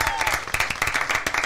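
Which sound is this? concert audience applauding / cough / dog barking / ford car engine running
concert audience applauding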